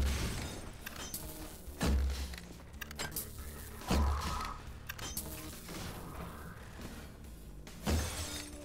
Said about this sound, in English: I didn't think I could break that glass.